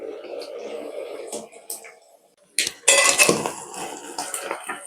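Mutton kabab pieces stirred in an iron pan, the spatula scraping and clinking against metal in bursts, louder after a brief pause, with faint sizzling and voices talking around it.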